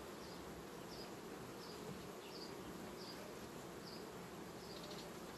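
Honeybees in a hive colony being united with a mesh screen board, a steady continuous hum of many insects filling the air, with faint higher buzzes of individual bees passing at regular intervals.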